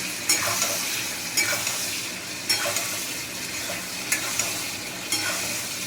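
Potatoes being stirred into a cooked-down spice paste with green chillies, sizzling steadily in a pan, with a scrape of the spoon about once a second over a constant frying hiss.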